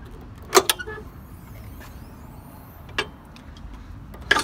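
The dual rear spare wheel carriers on a 2011 Toyota Landcruiser Troopcarrier GXL swing open, giving three sharp metallic latch clicks and clunks spaced a few seconds apart over a quiet background.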